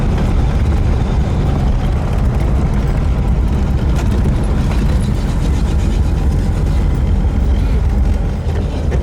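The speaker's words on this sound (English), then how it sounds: "we're bringing the Plymouth back home to its garage carport area of the Idlewild Drive" A 1950 Plymouth car rolls into its home carport, its engine a loud, steady low rumble up close with road and wind noise, continuous and with no talking.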